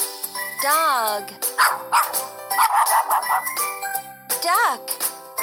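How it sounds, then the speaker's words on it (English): Barking from a cartoon dog in a children's educational animal puzzle game, several loud yapping barks spaced across the clip, mixed with tinkling game jingles and sparkly sound effects, no speech. "Dog."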